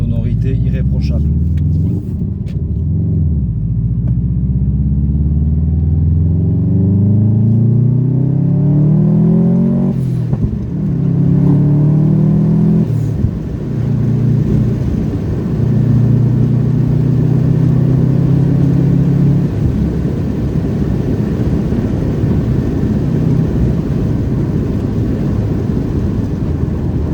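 A Subaru Impreza WRX revs and accelerates through the gears while driving, its engine rising and falling in loud, close pulls under occasional speech.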